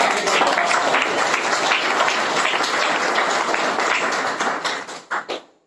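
A seminar audience in Mahsauna Biman, Sheikhpura, Bihar claps in loud, dense, sustained applause that thins into a few last claps before stopping.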